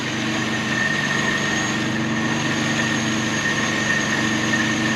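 A 1970s Volvo 164E engine, revived after sitting for 20 years, idling steadily with a constant low hum and drone that stays even and close throughout.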